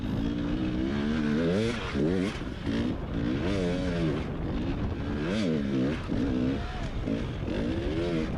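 Dirt bike engines at a hard enduro race rev up and down in repeated rising and falling whines, loud and close, with a continuous rough mechanical roar underneath.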